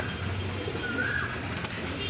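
Pigeons coo softly nearby, a low continuous burbling murmur with one brief higher call partway through.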